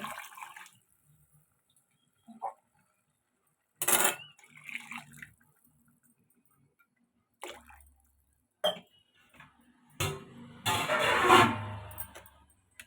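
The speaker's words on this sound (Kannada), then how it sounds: "3 ಚೊಂಬು ನೀರು ಹಾಕ್ಕೊತೀನಿ ನಾನು ಇವಾಗ." Jugs of water are poured over three glasses of rice for tomato bath, heard as faint, scattered splashes and drips in a quiet kitchen, ending in a longer, louder pouring rush.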